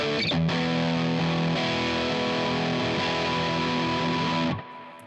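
An electric guitar played through a distorted amp and captured with a Sennheiser 421 microphone, thick sustained chords ringing loud and close before cutting off near the end.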